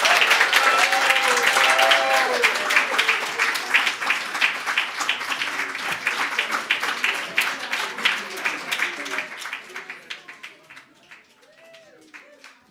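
Audience applause and clapping after a children's storytelling performance, a dense burst of many hands that thins and fades toward the end, with some crowd murmur mixed in.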